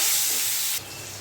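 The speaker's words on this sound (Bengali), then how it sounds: "এবারে আমি সবগুলো মাছকে ভেজে নিচ্ছি।" Bata fish sizzle in hot oil, a close, steady frying hiss that drops a little quieter partway through.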